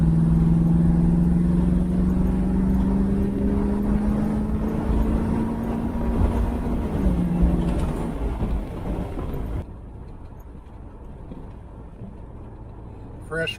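A 1970 Oldsmobile Cutlass convertible cruises with a steady engine drone and road rumble. The engine tone rises and then eases off before the sound drops to a quieter idle, while voices talk in the car.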